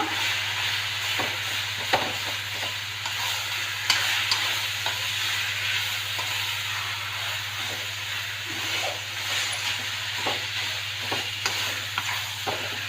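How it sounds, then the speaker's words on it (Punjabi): Amla chutney masala being roasted and stirred in a pan, a steady hissing sizzle running throughout with regular light knocks and scrapes of a spoon, no speech. "ਹਲਾਉਂਦੇ ਰਹਿਣਾ ਕਿਉਂਕਿ ਥੱਲੇ ਵੀ ਨਾ ਲੱਗ ਜੇ ਮਸਾਲਾ ਆਪਣਾ"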